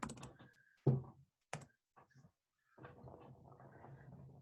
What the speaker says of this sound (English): Let me type my email address in here.